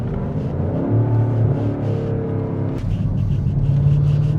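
A BMW X5 G-Power's engine rumbles and revs steadily up close, a deep continuous growl with a sharp shift partway through, alone without talk.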